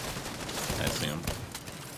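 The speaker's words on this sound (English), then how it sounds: "He's just shooting the LMG off all crazy." Light machine gun fire in a looter-shooter video game, a dense crackle of rapid shots and effects running throughout, with a voice speaking over the gunfire.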